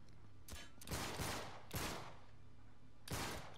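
Pistol shots in the action game Uncharted 3 ring out as about five sharp, close reports in an irregular rhythm, some in quick pairs, with no talk.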